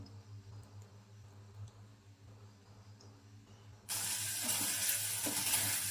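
Beef tripe frying and being stirred in a pan, a quiet low cooking murmur that suddenly swells into a loud, dense sizzle for the last couple of seconds.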